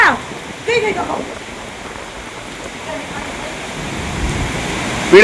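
Heavy rain pours down steadily, splashing as it is caught in tubs, a dense close hiss with brief louder bursts at the start and end.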